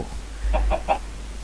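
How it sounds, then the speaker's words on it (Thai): A Minecraft chicken in a Galacticraft modded world gives three quick, soft clucks in a row over a faint background hum. "ไก่แน่นอนเลยว่าแล้ว"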